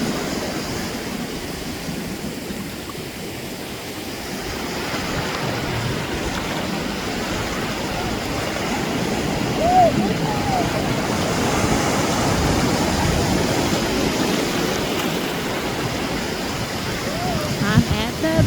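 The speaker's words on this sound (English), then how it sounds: "The beach. I love it. Cocoa Beach, Florida." Steady ocean surf washing at Cocoa Beach, Florida, a continuous broadband rush with gentle swells, heard up close under wind, with no clear voices over it.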